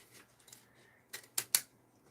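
Odd-shaped scissors cutting tape during a casual livestream: two or three crisp, close snips in quick succession after faint handling rustle, with no talking over them.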